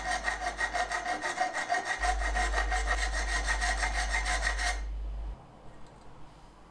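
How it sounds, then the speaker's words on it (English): A hand file scrapes paint from a bike frame dropout in steady rhythmic strokes, each pass a gritty rasp, close and alone before the filing stops. "so I removed some with a file."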